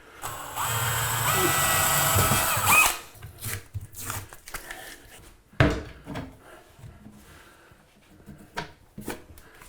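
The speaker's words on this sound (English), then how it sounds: "I'm just going to drill 4 holes, put the door handle on." An electric drill whirs steadily for about three seconds, drilling holes in a cabinet, then stops, followed by scattered knocks, clicks and handling noises nearby.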